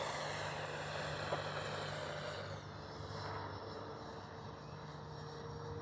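A Freewing F-16 70mm electric ducted fan RC jet in arctic camo flying with its landing gear up, giving a faint, steady, high-pitched whine that rises and falls slightly as it passes.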